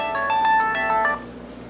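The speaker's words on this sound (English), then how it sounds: "And my phone's ringing again." A mobile phone rings with a bright, repeating electronic melody, a few quick tonal notes sounding close and clear, with no talk over it.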